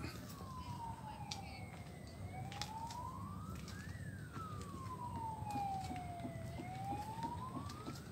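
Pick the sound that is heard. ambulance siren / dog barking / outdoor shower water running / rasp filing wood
ambulance siren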